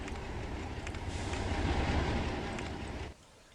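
A grain train rolls through in the Locomotion game, a steady rumbling rail noise with faint clacking that holds for about three seconds before dropping away to a quiet hum.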